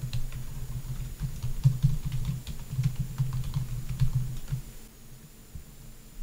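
Steady typing on a computer keyboard while entering account details, a run of soft, quick key clicks heard close and alone, easing off near the end.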